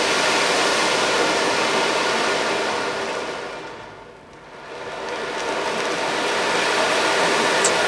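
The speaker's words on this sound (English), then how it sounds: "It's a wave. Yeah, it takes you to the ocean," Ocean-wave sound during a guided sound bath for energy healing: a loud, broad rushing wash that thins to a brief lull midway, then swells back to full strength.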